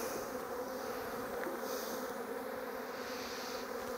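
Dense swarm of honeybees buzzing steadily around an opened beehive, a close, continuous droning hum with no voices.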